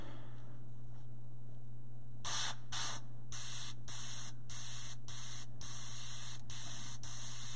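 An airbrush sprays paint for a chrome highlight. Several short hissing bursts follow a quiet stretch, then settle into a steady run of pulses over a constant low electrical hum.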